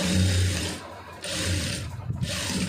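A sewing machine runs a short tack stitch on a blouse in three quick bursts of rapid, rasping mechanical whirring, separated by brief pauses, close and fairly loud.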